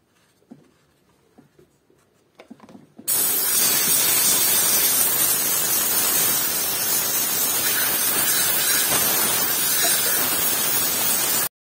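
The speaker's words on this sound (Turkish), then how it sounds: "yaklaşık 1 dakikadır buraları buharla temizlemeye çalıştım" A steam cleaning machine set to a strong output sprays steam in a loud, steady hiss that lasts about eight seconds and cuts off abruptly, preceded by a few faint handling clicks.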